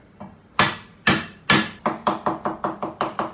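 Heavy cleaver blows on a board chopping old ginger, a few slow loud whacks followed by a quicker run of steady chops, close up with no talking.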